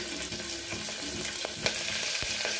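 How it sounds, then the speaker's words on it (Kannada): Green chilies crackle in hot oil for a tempering, a close, dense sizzle with a few quick stirring scrapes and taps over the short stretch. "ಮೆಣಸಿನ್ಕಾಯನ್ನು ಮತ್ತೆ ಹಾಕಿ ಅದಕ್ಕೆ ಒಗ್ಗರಣೆ ಸ್ಟಾರ್ಟ್ ಮಾಡೋಕ್ಕೆ"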